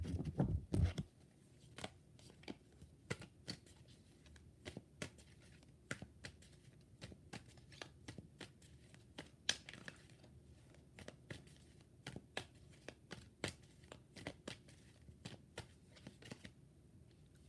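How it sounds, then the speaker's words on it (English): Tarot cards are shuffled by hand in a steady run of sharp, crisp riffling clicks, close and alone, after a brief low thump at the start. "Last shuffle."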